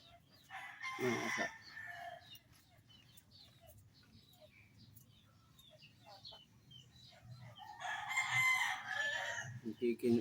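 A rooster crows twice, once early and again near the end, fairly close and clear, with quiet farmyard background between the calls.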